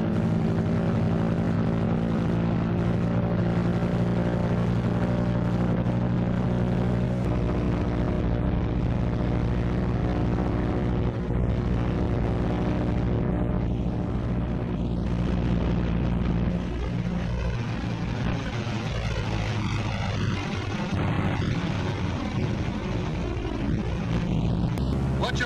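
Propeller engines of a WW2 Martin B-26 bomber in a flight simulator drone steadily through a run-up and prop check, loud continuous rumbling with shifting pitch, and someone talks over it throughout.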